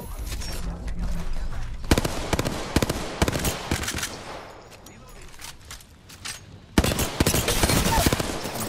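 Charge rifle shots and other gunfire in the battle royale game Apex Legends, sounding as loud sharp bursts and rattling volleys against a busy game background, with moments of lighter rumble in between.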